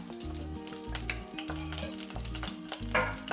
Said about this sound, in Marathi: प्रथम एक चमचा आपण तेल घातलं म्हणजे आपण दोन तीन लवंग एक तमालपत्र एक छोटा दालचिनीचा तुकडा आणि दोन वेलदोडे घातलेत